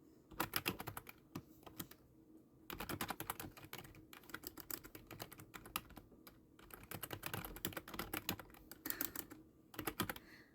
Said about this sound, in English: I'm going to type in my contact info, basically, and name.